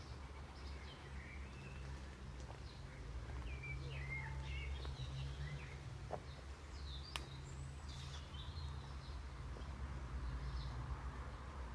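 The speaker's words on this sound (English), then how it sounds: "lots and lots of birds. A whole cacophony of birds are calling around me right now." Many birds call and chirp all around at a garden birdwatching spot with feeding stations, scattered overlapping tweets and whistles near and far over a steady low rumble of background noise, with no talking.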